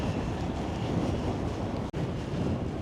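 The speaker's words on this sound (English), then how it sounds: "Oh my goodness, look at this, that's how windy it is." Strong seaside wind in Blackpool roars across the microphone in a constant heavy buffeting rumble, briefly cutting out for an instant before resuming.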